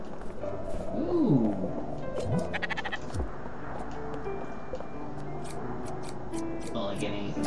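A sheep bleats a couple of times in the video game Spiritfarer. The quick wavering cries rise over soft game background sounds and music.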